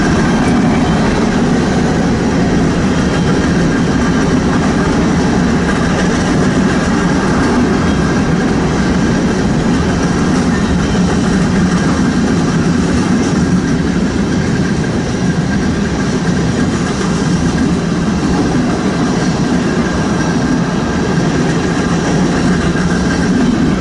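A CN freight train rolls past in a long, steady, loud rumble with faint wheel clatter, continuous throughout with no talking.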